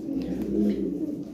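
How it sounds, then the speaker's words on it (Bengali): Lahori toy pigeons coo softly in a low, throaty murmur, a few overlapping calls close by with faint background noise. "এগুলো অরিজিনাল টয় বিটের কবুতর"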